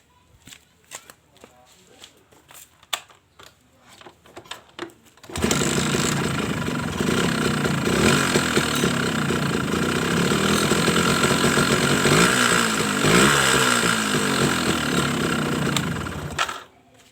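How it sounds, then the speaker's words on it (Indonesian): A Suzuki RC motorcycle engine starts after a few quiet knocks and idles loudly and roughly for about eleven seconds, then cuts off. "Di sini saya mau pengecekan suara mesin sepeda motor Suzuki RC ini."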